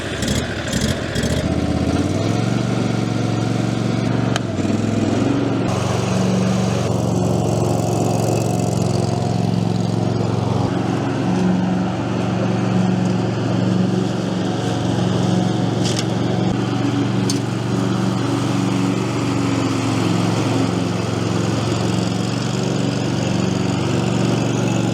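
A Mountfield ride-on lawn mower engine runs steadily while cutting short grass, a loud continuous drone with a sharp start in the first couple of seconds, holding an even pitch throughout with no talk.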